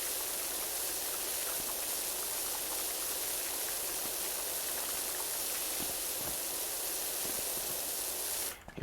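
A pressure washer nozzle in PowerWash Simulator sprays water in one continuous loud hiss, with a faint patter of droplets, cutting off sharply at the very end.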